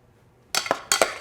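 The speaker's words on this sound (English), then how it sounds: "strain them out any way you can. I'm just using a spider." A metal spider strainer scoops candied pecans for buñuelos, giving two bursts of clinking and scraping against a pot, close and loud with no talk.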